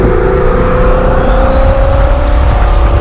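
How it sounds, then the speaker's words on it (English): A twin turbo 397 engine in a Ghoul SRT roars loudly and continuously on a cold start, a dense, close, steady rumble with a rising whine near the end before it cuts off abruptly. "So what I'm gonna do is I'm gonna get a cold start on this."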